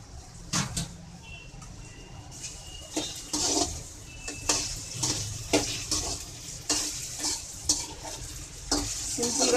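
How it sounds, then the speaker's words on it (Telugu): Cut okra (bhindi) frying in a pan, a steady sizzle broken by frequent spatula scrapes and clinks against the pan, close and fairly busy, with no voices. "బెండకాయల్ని వేసి ఫ్రై చేసుకోవాలి."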